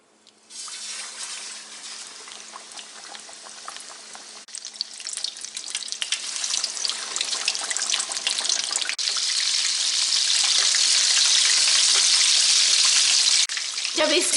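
Spicy Lahori-style fish fries in hot oil over medium heat with a dense, steady sizzle that grows louder and fuller. The frying is heard up close with no talking.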